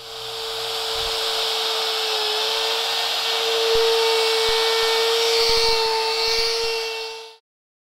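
Router plunging deeper into a wooden tabletop to cut a tile inlay recess, a loud steady high-pitched whine with a constant motor tone, held for several seconds before abruptly switching off.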